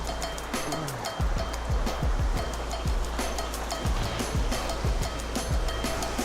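A waterfall in the Kabylie countryside roars as a constant broadband rush of falling water, close and loud, with a few scattered short thumps and knocks over it.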